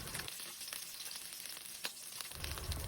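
Chicken breast deep-frying in hot oil, a steady crackling sizzle with dense popping bubbles, close and even in level throughout with no voices.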